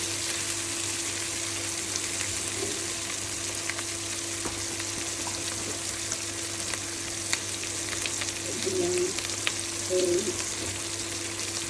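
Beef frying on an electric stove in a pan for a red bhuna, making a steady soft sizzle throughout with a few brief stirring scrapes near the end and no talking.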